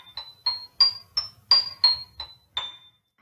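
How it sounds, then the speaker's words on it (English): Piano playing very high notes: about eight separate bright, short plinking tones in an uneven sequence, close and clear, with no voice. "some of our instruments, for example the piano, can play really high notes like this."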